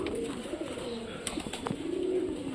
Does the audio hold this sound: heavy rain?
no